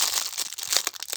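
A plastic bag holding a Genshin Impact Mondstadt blind box figure crinkles and crackles close up in quick, irregular bursts as hands struggle to tear it open.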